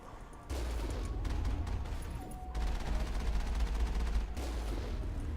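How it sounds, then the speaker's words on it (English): Heavy gunfire and rocket blasts roar through a Mass Effect firefight, dense bursts of shots with booming low rumbles sustained across the clip, loud and close with no talking. "Oh, rockets, incoming rockets."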